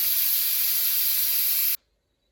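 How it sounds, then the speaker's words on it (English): Steam hisses steadily and loudly from the fully opened release valve of a Cosori pressure cooker, a constant close rush that cuts off abruptly to near silence. "That's fully open now, releasing the steam."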